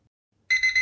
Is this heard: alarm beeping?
yes